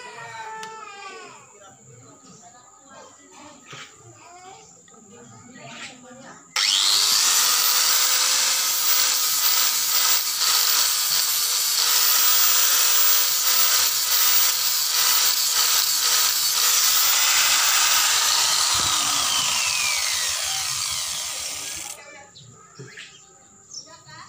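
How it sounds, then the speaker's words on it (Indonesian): A grinder fitted with a sanding disc smooths a wood and fiber clamp piece, running as a loud steady whine for about fifteen seconds before spinning down, with quieter handling sounds before and after. "Jadi kita haluskan pakai mata gerinda amplas."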